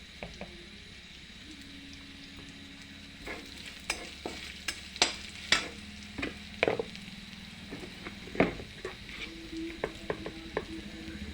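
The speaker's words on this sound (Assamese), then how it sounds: "এতিয়া মই ভাল কৰি লাৰি দিম" Onions, garlic and spices fry in a pan while a utensil stirs them, giving a steady soft sizzle broken by irregular scraping and clattering strokes, close up with no talking.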